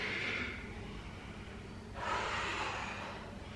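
Two long, breathy exhales during a yoga workout, the first fading out and the second rising sharply after a pause, heard close and alone.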